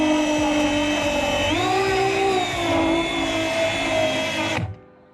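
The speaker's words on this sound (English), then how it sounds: "I have this rubber wheel attachment for the drill, and it makes getting this stuff off pretty" Power drill fitted with a rubber wheel attachment grinding adhesive residue off a BMW E36 headliner, a loud close steady whine with slight pitch shifts, then stopping abruptly.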